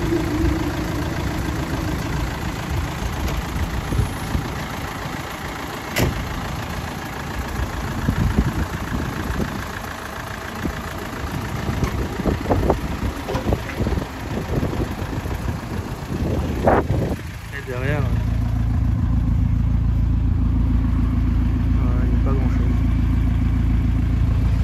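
A Chrysler PT Cruiser's engine runs at a decarbonization machine in a service center, a steady mid-low drone with rattles and speech-like noise in the first part, then a louder, smoother constant hum close by.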